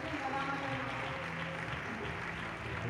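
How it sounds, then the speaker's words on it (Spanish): An audience applauds in the Salón Liceo hall during the crowning of a festival queen, a soft, continuous patter of many hands clapping at a distance throughout. "Este es el aplauso del público y el aspecto del Salón Liceo en el Real Ciclo de la Amistad"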